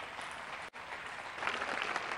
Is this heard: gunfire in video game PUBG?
no